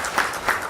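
Audience applause at an awards ceremony in Goa, a brief steady wash of many hands clapping with slight swells, fairly close and filling the room.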